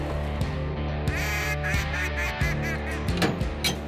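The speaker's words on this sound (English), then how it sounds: "And a few more decoys to bring in the ducks." Ducks quacking and honking in repeated loud, nasal calls over a droning background, close and rhythmic, with no talk.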